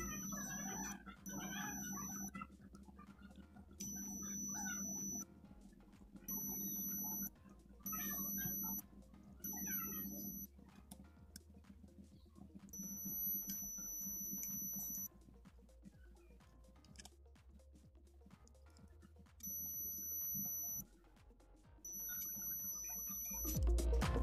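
Repeated short electronic continuity beeps from a digital multimeter under repair, sounding in on-off bursts of varying length against a low steady hum, fairly clear and close with no talking.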